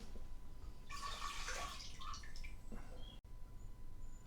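Water is poured out of a vintage Soda King seltzer syphon bottle from the 1930s or 1940s: a soft splashing trickle for about two seconds, fairly faint and close, then quiet.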